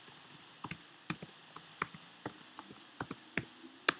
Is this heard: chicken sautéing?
no